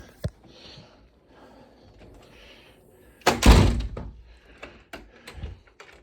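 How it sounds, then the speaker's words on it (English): A house door is locked at close range, giving a loud thunk and rattle of the latch and bolt, then softer clicks and knocks, with quiet room noise around it. "just locking the door so I don't forget"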